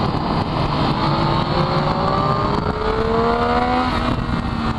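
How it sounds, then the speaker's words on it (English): A Triumph Daytona 675 motorcycle engine pulls under throttle on a winding park road, a loud, steady rising drone with climbing engine tones over constant wind buffeting, close to the rider. "Give it a bit of throttle there."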